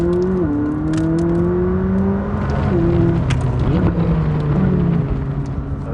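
McLaren 600LT pulling away from 1500 revs in second gear, heard from inside as a steady engine drone whose pitch climbs gradually, with a brief dip as the revs settle before building again.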